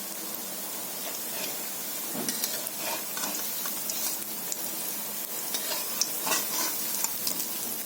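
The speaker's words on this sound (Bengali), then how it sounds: "সরষের তেলে ভাজছি" Snacks frying in mustard oil, a steady crackling sizzle with bursts of spitting bubbles and occasional stirring, close and continuous with no voices.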